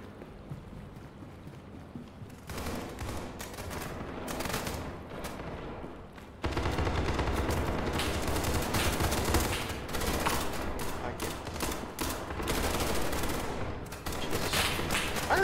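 Gunfire rings out in the video game SCP 5K, with dense bursts and fusillades of shots over a constant rumble that turn louder and more continuous partway through.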